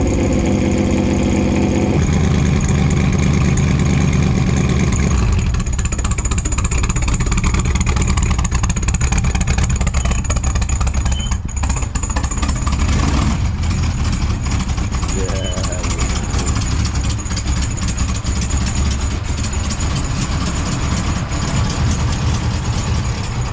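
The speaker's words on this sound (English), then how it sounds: "What's the motor? It's Rover. Rover V8?" A Rover V8 engine disguised as a Ford small block, fitted in a prewar roadster build, idles loud and steady with a low rumble throughout while people talk over it.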